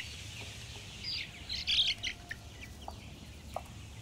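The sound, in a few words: chickens and hens chirping in a coop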